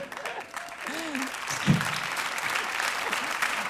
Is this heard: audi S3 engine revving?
no